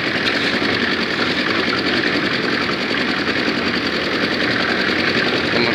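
A concrete mixer (molen) drum turns while mixing cement and sand, giving a loud, steady mechanical rumble and rattle that runs unbroken with no voices.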